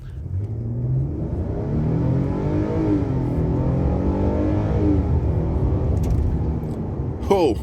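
A 2022 Nissan Frontier SV pickup truck accelerating hard along a small road, its engine note climbing steadily in pitch and loudness from inside the cab, continuous and strong, with a brief voice near the end.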